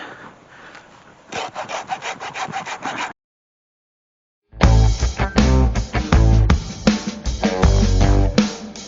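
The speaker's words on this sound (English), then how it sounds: "Basically, I just use a hacksaw." A hacksaw cuts through wood in quick, rhythmic rasping strokes, close and loud, one short burst, a pause of silence, then a longer, more forceful run of sawing.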